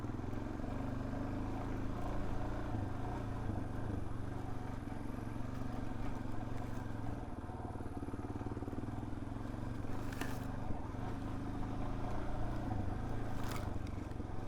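A Suzuki DRZ 400S dirt bike rides a wooded trail at a moderate pace, its engine droning steadily and close throughout, with a few faint clatters over the top.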